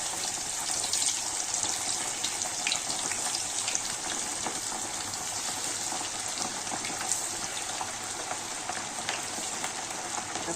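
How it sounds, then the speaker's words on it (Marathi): Marathi-style marinated maral fish pieces sizzle in hot oil with a steady, dense crackling hiss that holds at an even level from start to finish, close up and with no talking. "तर तळून घेऊ सगळी मच्छी"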